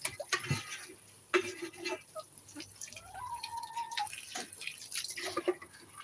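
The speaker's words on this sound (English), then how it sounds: "Fresh water coming up." Fresh water poured and splashing into a container for backyard chickens, intermittent trickles and drips with clinks of a vessel, close by and fairly quiet, with a brief tonal squeak midway.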